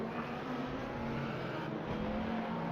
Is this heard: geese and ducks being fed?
no